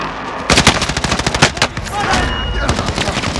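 Rapid bursts of video-game gunfire crackle in dense, loud volleys with brief gaps, automatic fire layered over a busy, near mix.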